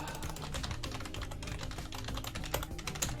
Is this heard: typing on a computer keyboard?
yes